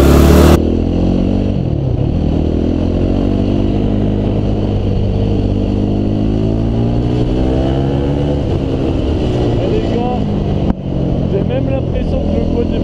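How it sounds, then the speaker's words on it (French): A quad bike engine at night near fields starts and revs close by, its loud, steady motor note rising and falling through repeated throttle blips over about thirteen seconds. "Même l'impression que le quad démarre mieux."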